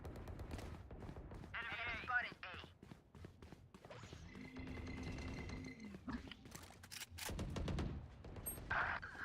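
Bursts of gunfire in a shooter video game, several rapid shots mixed with other game effects and a voice talking over them, moderately loud and irregular.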